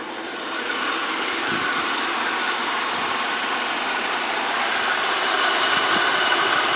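A 1998 Oldsmobile LSS with a supercharged 3800 Series 2 engine and an aftermarket 4-inch air intake, running at a steady idle with a continuous broadband whir and hum, heard up close without talk.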